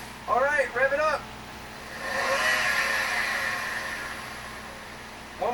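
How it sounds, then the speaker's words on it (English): A mid-pitched engine revs up and holds a whirring, airy roar after a turbo replacement, rising and easing off over a few seconds; brief talk comes before the rev and at its end. "Alright, rev it up."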